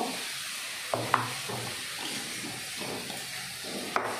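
A spoon stirs Gobindobhog rice with moong and masoor lentils in a pot for khichuri, giving a few soft scrapes and light clicks over a steady low hiss, quiet and close.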